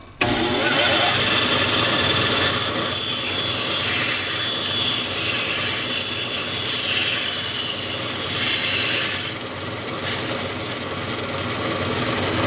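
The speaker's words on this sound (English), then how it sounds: "turn on the saw" A band saw with its blade tensioned cuts a wooden wheel blank just over 4 inches across. A steady, loud grinding whir runs without pause and eases slightly near the end.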